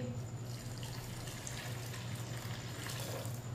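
Water poured from a glass into masoor dal in a cooking pot makes a steady, continuous splashing pour that runs throughout at moderate level, with a low constant hum underneath and no speech.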